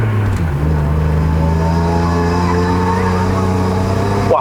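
A BMW E36 325i with a five-speed manual, driven hard on the Genting mountain road in Malaysia, drones loudly and steadily from inside the cabin, its engine note holding even before sweeping upward at the very end.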